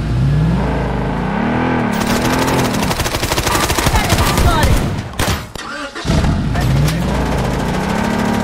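Enemy gunfire in the shooter game Blood Strike, rapid bursts of shots rattling over a roaring vehicle engine that revs and drones, loud and close, with a brief lull before the engine sound returns.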